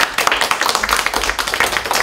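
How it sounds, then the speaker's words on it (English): Audience applause fills a university performance-art class at its close, dense steady clapping from many hands at close range, with a cheer mixed in. "So round of applause."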